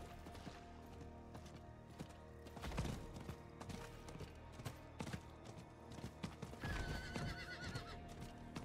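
A horse whinnies loudly amid clopping hooves and busy game-like background noise in the video game Diablo 4, with a second shrill neigh rising near the end.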